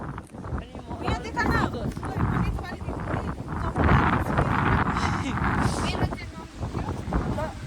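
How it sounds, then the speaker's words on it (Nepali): Strong, steady wind roars and buffets the microphone throughout a football match at Tanyang, with people talking underneath the gusts. "यस्तो डरलाग्दो हावा चल्दैछ"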